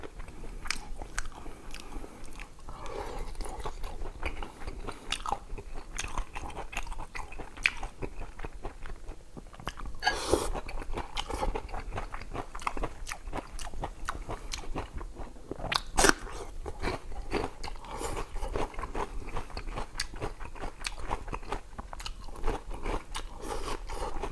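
Someone eats dried mushrooms stewed with pork belly, the chewing and biting close and crunchy. Repeated crisp bites and moist mastication go on continuously, with occasional sharper crackles and no talk.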